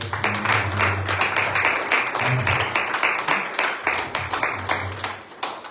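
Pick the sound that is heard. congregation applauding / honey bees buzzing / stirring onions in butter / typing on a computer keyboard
congregation applauding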